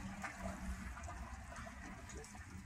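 Grey water from an RV holding tank of dish soap and shower water drains and flushes out through the valve, a steady, loud rush of water with gurgling running continuously.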